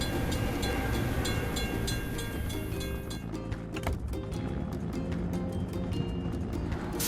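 Cartoon train from a children's construction-vehicle game rolling past a closed crossing gate, a steady dense rumble with rhythmic clacking of wheels, loud and continuous throughout, with no talk over it.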